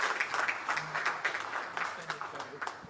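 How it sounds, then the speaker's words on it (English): Light, scattered audience applause at an Africa CDC regional meeting sounds faint and somewhat distant, mixed with a person speaking. "Let's give him a round of applause again"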